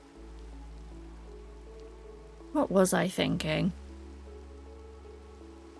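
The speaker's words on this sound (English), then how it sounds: "It is dark, it is rainy." Steady soft rain hiss from a Minecraft game throughout, with a low hum beneath and a brief burst of speech in the middle.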